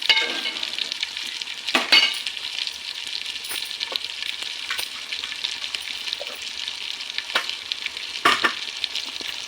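Chicken curry fries in a pan with a steady bright sizzle. Occasional scraping spoon strokes break through as the mixture is stirred, close and clear with no talking.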